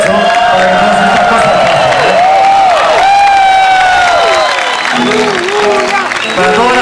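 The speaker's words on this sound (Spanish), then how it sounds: "quiero un aplauso muy fuerte, escuchad, un aplauso muy fuerte para Mauricio y para toda su productora" A large audience claps and cheers loudly and continuously, with whoops and shouting voices rising over steady applause.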